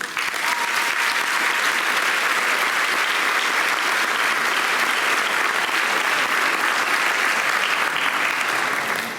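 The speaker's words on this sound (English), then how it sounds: "So a round of applause for our community." At a South Portland High School senior award night, a large audience gives loud, sustained applause for the community, a thick unbroken roar of clapping that holds steady for several seconds before easing off.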